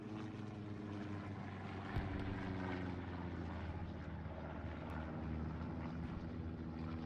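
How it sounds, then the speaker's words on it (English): An enemy recon plane flies overhead in a Sainte-Marie-du-Mont battle of a World War II–style video game, giving a continuous propeller-engine drone that holds a steady level for several seconds with no voices. "Enemy recon plane."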